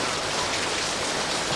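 Steady rain falling, a dense continuous hiss of drops striking surfaces, close and even throughout with no voices.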